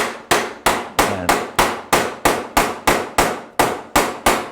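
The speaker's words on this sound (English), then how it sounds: "I whack them with a rubber hammer" Rubber hammer whacking the heel loops of Union snowboard bindings, a steady series of about fourteen loud, evenly spaced thuds with sharp attacks and short decays, no talk.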